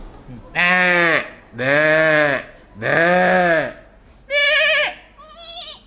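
A voice imitates a goat to call it, giving three long wavering bleats followed by shorter, higher bleat-like calls.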